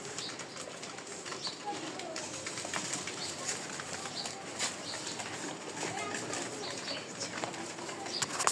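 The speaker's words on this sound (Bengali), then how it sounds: "এটা সব কবুতরগুলো হাই ফ্লায়ার" A flock of high flyer pigeons coos softly and flutters their wings in a steady, busy stream of bird noise with no clear pauses.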